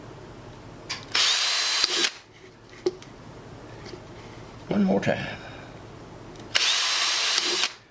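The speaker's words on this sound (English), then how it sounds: "drill a hole" A power drill bores holes into a wooden bird feeder in two loud whirring bursts separated by a quieter pause with handling clatter, while a person speaks briefly in between.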